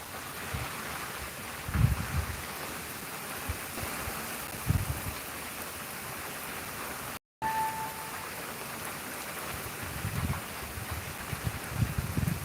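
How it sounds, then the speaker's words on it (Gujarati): Rain falling steadily as a soft, broad hiss outdoors, with a few low rumbling thumps; even and fairly quiet throughout, no speech. "આજનો વરસાદ ચાલુ થઈ ગયો છે"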